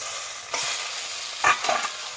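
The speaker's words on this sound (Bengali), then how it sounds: "এটা আমি ভালোভাবে মিশিয়ে নেব চিংড়ির সঙ্গে।" Boiled bottle gourd being stirred together with prawns in a hot pan, a steady soft sizzle with a few louder scraping stirs near the end, no voices.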